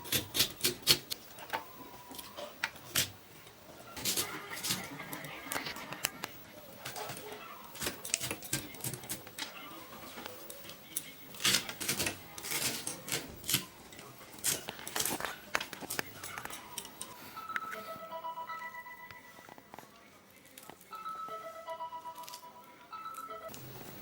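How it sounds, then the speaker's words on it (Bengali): A knife chops onion on a board for a roasted eggplant dish, making irregular, fairly quiet taps and knocks in quick runs, with a soft melodic tune toward the end. "আমি পেঁয়াজ কেটে নিই।"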